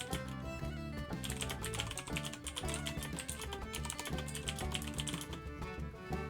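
Typing on a computer keyboard gives a steady run of quick, close keystrokes over continuous background music.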